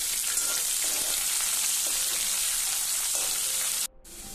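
Garlic and a little onion sizzle steadily in hot oil in a pan while dal fry is being cooked, a dense continuous frying hiss that cuts off abruptly near the end before resuming faintly.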